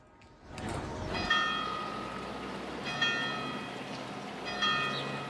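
Church bells in Graz, Austria, toll in mourning for victims of a school shooting, three slow, resonant strikes about every one and a half seconds, ringing out over a steady outdoor hum with long decaying overtones.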